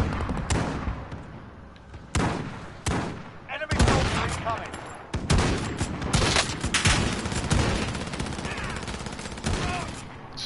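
Rifle sniping gunfire in the video game Call of Duty Warzone, with several sharp, loud shots spaced irregularly over a dense, busy battle soundscape and occasional voice.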